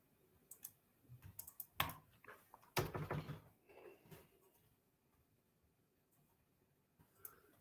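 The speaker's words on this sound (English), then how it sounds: "My keyboard isn't responding." A computer keyboard clatters in scattered bursts of clicks and heavier key strikes, close and fairly loud at first, then dropping to faint isolated taps.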